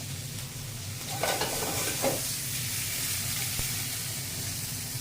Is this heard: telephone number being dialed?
no